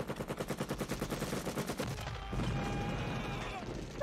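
Gunfire and explosions from the 1987 action film Predator: a rapid machine-gun burst pulses for two seconds, then gives way to a rumbling blast and debris, loud and close, with voices faintly mixed in.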